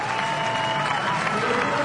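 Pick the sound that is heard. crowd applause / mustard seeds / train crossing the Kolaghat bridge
crowd applause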